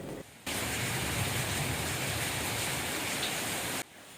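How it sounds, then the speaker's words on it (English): Steady rain splatters on a patio at night, a dense even hiss that starts abruptly and holds at constant loudness for several seconds before cutting off, with no voices. "A stream of rain is splattering on the patio"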